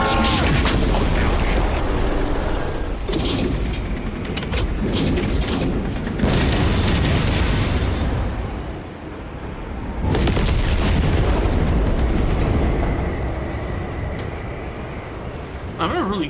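Explosions in Warhammer 40K Space Marine 2 boom loudly and repeatedly against continuous gunfire and mechanical clatter. A voice talks over parts of the battle noise.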